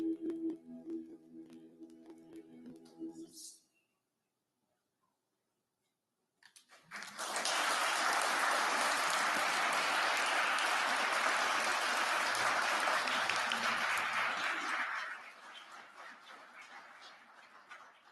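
Audience applause at a mayor's State of the City address swells after a short silence into about eight seconds of loud, steady clapping, then fades to a quieter patter.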